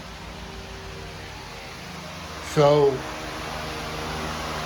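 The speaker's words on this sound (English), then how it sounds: "sorry for the noise, I got the fan on." A steady whirring hum fills the background throughout while a person briefly speaks over it.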